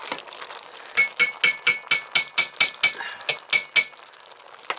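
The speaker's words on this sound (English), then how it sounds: "I need to get this stirred up here" A spoon stirs soup in an Instant Pot, knocking against the inner metal pot about a dozen times in a quick, regular run of bright clinks up close, with no talk.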